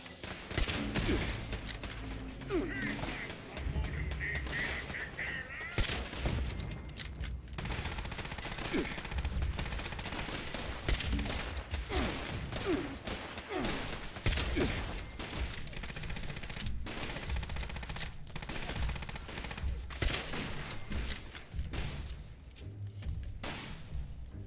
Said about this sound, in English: Oh, we got laser turrets.